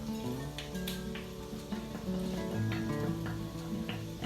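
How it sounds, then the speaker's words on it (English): Chopped onion sizzles and softens in a pan, a steady close frying hiss with small crackles and the occasional stir, no talking. "my onion is starting to soften"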